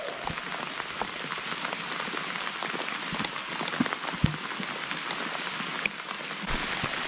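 Steady rain falls on surfaces during a storm on a solo canoe trip in the Yukon wilderness, a dense close patter with scattered louder drops and no talking.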